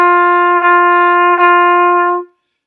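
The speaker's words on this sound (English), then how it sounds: "Legato again would be smoother and more connected." A trumpet holds one steady pitch in smooth legato tonguing, with the notes joined by only faint soft articulations rather than gaps. The playing is loud and near and then stops cleanly.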